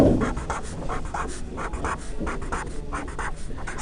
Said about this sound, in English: I'm already getting tired just writing N